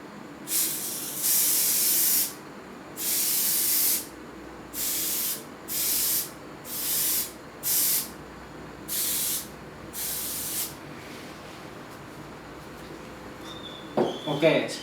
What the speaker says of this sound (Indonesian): Selanjutnya kita akan menyemprotkan cairan penetran ke benda ini.